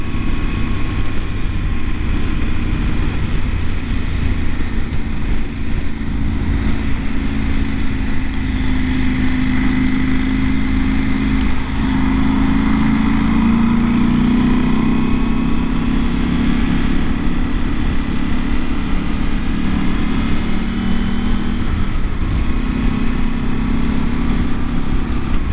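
KTM 790 R Adventure motorcycle engine under way, a loud steady drone with wind and road rumble running unbroken throughout, no talking.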